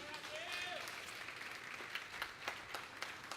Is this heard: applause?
yes